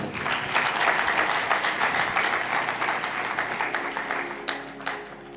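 A sermon congregation claps loudly and continuously, a dense, fast patter of many hands sustained throughout without pause.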